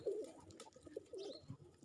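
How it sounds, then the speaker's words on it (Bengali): Pigeons coo softly while being fed, in a sweltering hot-weather setting, their low throaty calls repeating irregularly through the short moment with faint background noise. "কবুতরের দেখেন কবুতরের খাবার দিতে আসলাম"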